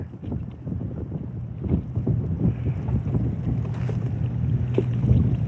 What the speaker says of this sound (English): I know you guys can hear the wind, right?